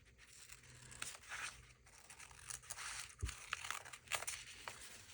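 Scissors cutting through folded paper for a Halloween craft page, a run of close crisp snips and tearing crunches in uneven bursts, with no talk.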